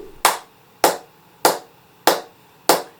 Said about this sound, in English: Just get everybody clapping.